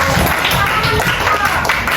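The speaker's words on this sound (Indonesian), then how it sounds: "kita beri tepuk tangan untuk kelompok satu" A classroom applauds the winning first group in a short, dense burst of clapping, with voices mixed in.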